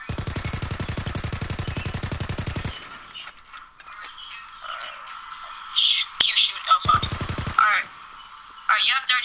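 Bursts of rapid gunfire from a hide-and-seek match in a shooter video game, a dense rattling volley at the start, then quieter stretches with sharp clicks and a second short burst, with a voice speaking between the shots.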